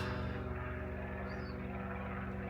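A helicopter flying overhead, a continuous droning rotor and engine hum at a steady loudness, faint and somewhat distant, with no voices.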